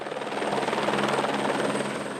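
A helicopter flying during a capture of wild sheep near Canyon Lake, a loud continuous rotor thrum with a rapid blade pulse that stays steady and close throughout, with no talking.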